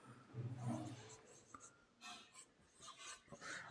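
Pen or chalk writing out a physics definition of the critical angle in a class 12 lesson on total internal reflection, heard as soft scratchy strokes in short bursts with pauses, fairly faint and without talk.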